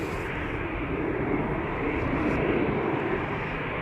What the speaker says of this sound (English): Delta Airlines A330 Neo to Minneapolis, Minnesota is also coming this way.